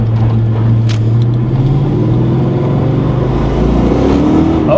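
A Foxbody Mustang under throttle on a road, its engine droning loud and steady with a rising pitch as it pulls, close and continuous with no talk.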